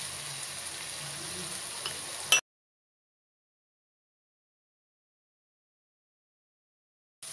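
Fried eggs go into a pan of winter vegetable bhaji and hiss with a steady close sizzle for about two seconds, then the sound cuts to silence.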